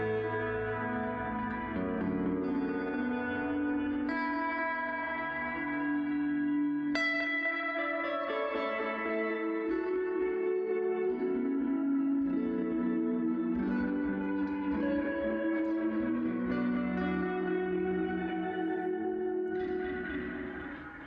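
Electric guitar played through an amp with a 2x12 JBL-style cabinet and a chain of pitch-shift delay, reverb, flanger doubler, EQ and compressor, ringing out sustained, shimmering chords with long echoing tails.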